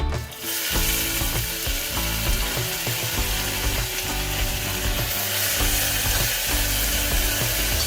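Onions sauté in oil in a pan with whole spices for a vegetable kurma, giving a steady, close sizzle that runs throughout, broken by scraping and stirring clatter.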